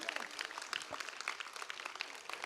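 An audience claps in a rapid, crackling burst meant to mimic bursting firecrackers, a faint and steady patter of many hands with no breaks.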